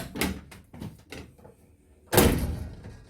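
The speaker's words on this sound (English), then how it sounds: "So I'm going to go ahead and open the doors." Doors on a converted bus, known as Fred, are opened with a series of soft knocks and rattles, followed by a loud whooshing thump as they swing open, close by with no talk.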